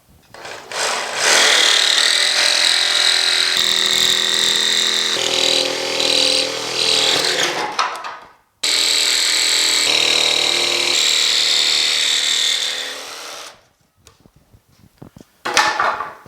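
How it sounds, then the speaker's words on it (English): Saber saw with a fine blade cutting old wood, a loud, close buzzing whine in two long cuts separated by a short pause, followed by brief clatter. "I've got a really fine blade for the saber saw, so hopefully this old wood won't splinter up too much"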